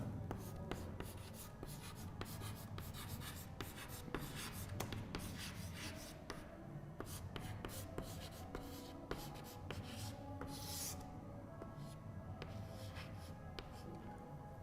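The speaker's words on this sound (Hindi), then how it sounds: "तो मैं यहाँ पे नाम लिख देता हूँ मोहम्मद महमूद अल हसन का।" Marker or chalk writing a name on a board in a lecture room, a steady scratchy rubbing of strokes running throughout, fairly faint with low room noise.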